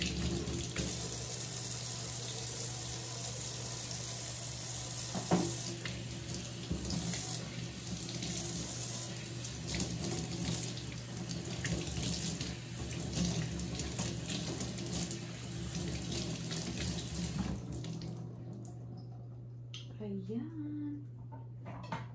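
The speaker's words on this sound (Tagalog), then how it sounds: "Hugasan ko din yung itlog." Tap water runs steadily into a kitchen sink while eggs are washed, a loud close gush with light clatter, then the flow stops and a voice is heard.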